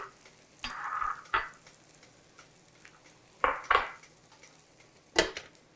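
Sugar-glazed food sears in a hot pan with a soft steady sizzle, broken by a few short louder bursts of stirring and pan scrapes; no one speaks.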